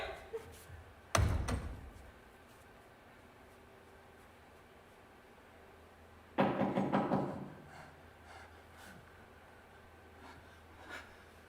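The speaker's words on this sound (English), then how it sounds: "Whence is that knocking?" Loud knocks strike a door twice, each a short burst of several heavy raps, separated by quiet stage ambience during a Macbeth performance, with a faint extra sound near the end.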